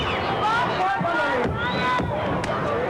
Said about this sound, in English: Nice crowd here again at the Great Western Forum.